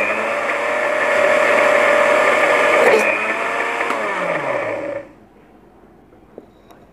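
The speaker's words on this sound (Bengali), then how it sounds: "কোনো অবস্থায় যে ব্লেন্ডার সুইচ অফ করা যাবে না" Kitchen blender whirring steadily while emulsifying oil into mayonnaise, a loud close motor drone with shifting pitch that cuts off abruptly near the end, followed by quiet.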